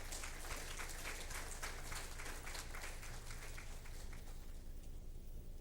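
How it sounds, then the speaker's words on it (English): A lecture audience at a Supreme Court anniversary celebration in Ghana claps, and the dense, even applause fills the hall for several seconds before gradually thinning out. "And I think they deserve an applause."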